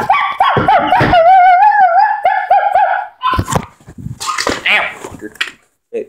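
A young dog inside a car whines in a long, rising, tonal whimper and then gives a few short barks and yips, close and loud, while people talk nearby.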